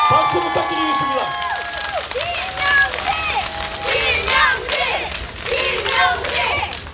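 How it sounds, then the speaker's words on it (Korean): Crowd clapping and cheering at an outdoor campaign rally in Yongdam, with a steady wash of applause from many hands, a few scattered voices and sustained, wavering tones from a nearby loudspeaker or music over it. "박수 부탁드리겠습니다."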